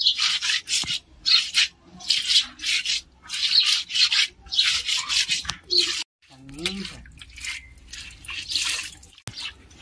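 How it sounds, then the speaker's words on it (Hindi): A chephua fish being rubbed clean by hand, rhythmic scraping strokes repeating in steady bursts up close, then a brief watery handling sound and a few more rubs. "हम बढ़िया से रगड़ लेते हैं पक्का पर।"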